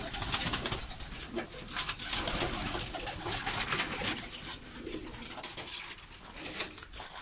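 Fancy pigeons, white ones among them, coo in a pigeon loft, a steady layered murmur of soft calls from several birds close by, with no talking.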